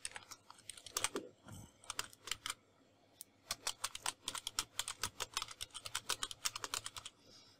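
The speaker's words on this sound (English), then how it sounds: "Let me type one more." Quiet, close keystrokes on a computer keyboard, a few scattered taps followed by a quick irregular run of clicks with no talking.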